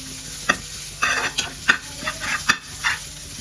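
Chicken with tamarind leaves frying in a pan, sharp sizzling bursts as the spatula stirs and scrapes in irregular strokes, close and fairly loud, with no talk.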